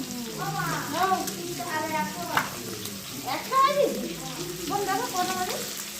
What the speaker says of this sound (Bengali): এইদিকে মাছ ভাজা, এই যে মাছটা ভাজা হয়ে গেছে